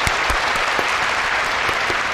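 A sumo crowd claps in a dense, continuous wash of applause, loud and close throughout the short stretch, with no one speaking over it.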